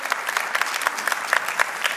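Church congregation applauding during a sermon, a steady, moderately distant patter of many hands clapping throughout with no voices over it.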